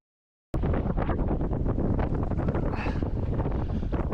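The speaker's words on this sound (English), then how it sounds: "these winds are supposed to ease up this afternoon, but so far it's still just staying about 20 to 25 knots" Strong 20 to 25 knot wind buffeting a sailboat, a loud continuous roaring rush with gusty fluctuations that starts abruptly after half a second of silence.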